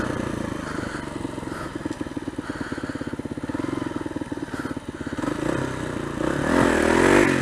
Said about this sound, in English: the obligatory wheelie in, which I probably need a bit more practice at.